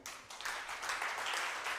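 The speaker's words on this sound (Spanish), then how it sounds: "Denle un aplauso al Señor." A church congregation breaks into applause, a short swell of many hands clapping that builds from soft to fairly full and stays steady, heard from some distance with no talk over it.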